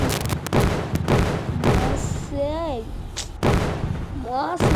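Repeated loud booms and blasts crackle in quick succession, with whistling tonal sounds between them, like explosions in a video game.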